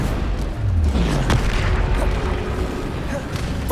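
A loud booming blast from an explosion spell in Hogwarts Legacy erupts close by, followed by a rumbling low tail and scattered crackles. A voice speaks over the game audio.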